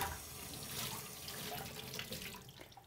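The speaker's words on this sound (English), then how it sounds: "you want to rinse it and agitate it until your water is running clear" A water tap runs steadily into a sink as a foam polishing pad is rinsed and squeezed under it, a close, continuous splashing hiss with slight shifts as the pad is worked, no talking.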